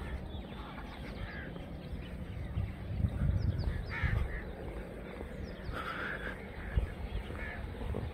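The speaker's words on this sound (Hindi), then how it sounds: "परिंदे चहचहा रहे हैं।" Birds call at sunrise over wheat fields, with crow-like caws and scattered chirps at middle distance against a busy outdoor background, a few calls standing out louder.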